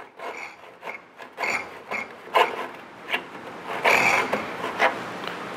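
A notch is cut out of a wooden rafter at a saw kerf, producing repeated close rasping and rubbing strokes of wood being worked in an uneven rhythm.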